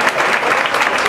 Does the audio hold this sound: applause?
yes